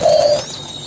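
A spotted dove, one of several young caged doves, gives a single loud, near coo that slides down and fades out within a second, with no voices present.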